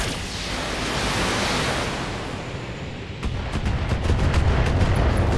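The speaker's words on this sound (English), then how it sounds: "So I'm just going to fire on this turret." A mech fires its weapons at a turret in the BattleTech video game: a dense, loud rumble of blasts, followed by a quick run of sharp, cracking shots.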